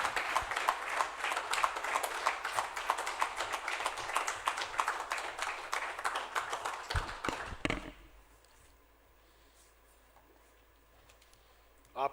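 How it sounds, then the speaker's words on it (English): At the SJVN DRISHTI Conclave 2022, an audience gives a round of applause for the chief guest, steady crisp clapping for about eight seconds that stops abruptly, leaving quiet room tone. "A round of applause for the chief guest for today's program,"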